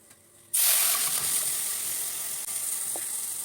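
Spices dropped into hot oil for tempering lentil dal cooked with rohu fish heads, giving a sudden loud sizzle that bursts in after a quiet start and then hisses steadily, close and alone.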